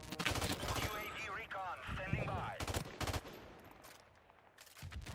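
M16 rifle fire in a Call of Duty remaster, bursts of rapid shots in quick clusters mixed with game sounds, with someone talking over much of it.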